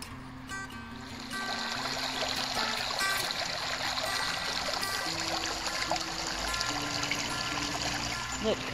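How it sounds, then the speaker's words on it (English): Water runs and splashes steadily over a piece of petrified wood being rinsed outdoors, a continuous close trickle that swells after the first second and carries on under faint voices. "Let's rinse it off."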